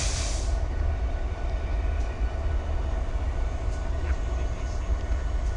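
A Norfolk Southern train approaches through a rail yard with a steady, heavy rumble and the broad roar of rolling wheels, holding strong and close for several seconds and led by a brief hiss at the start.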